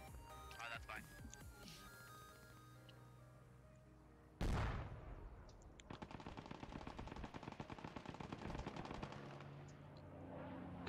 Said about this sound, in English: they called in 2 strafing runs